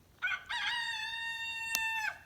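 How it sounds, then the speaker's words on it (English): A rooster crows in a clear, unusually high-pitched voice, one long sustained call standing out alone over quiet farmyard background. "You can always tell his crow from all the others because it's so high pitched. He's like the soprano rooster of the group here."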